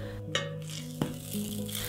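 French toast sizzles steadily in a frying pan over medium heat, a continuous close hiss broken by a couple of light clicks of a utensil against the pan.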